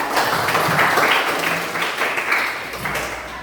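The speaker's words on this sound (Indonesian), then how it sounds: "tepuk tangan buat Mika" A class in a Hindu religion lesson claps for a student named Mika. Many hands patter steadily at moderate volume for a few seconds, with faint voices underneath.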